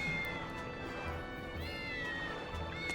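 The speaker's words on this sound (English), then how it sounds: "I want to pet all the kitties." A cat in Tales of Berseria gives soft, drawn-out meows over a faint, steady game background, with no talking.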